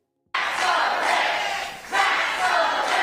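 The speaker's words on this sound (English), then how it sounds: "the crowd is chanting, tax the rich" Crowd at a Republican town hall chanting a slogan in unison, loud and close, a sustained roar of many voices with two rising surges of emphasis.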